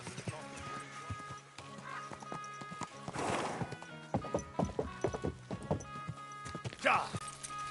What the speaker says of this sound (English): This horse doesn't stop.